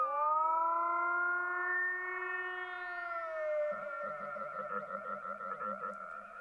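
An electric guitar played high up the neck through a weird Fractal effects preset gives a long siren-like sustained tone that bends upward, then breaks into a warbling, croaking, gurgling stutter, clear and alone.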